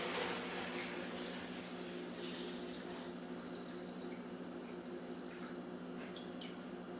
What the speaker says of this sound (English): Now we're going to pour it into our container.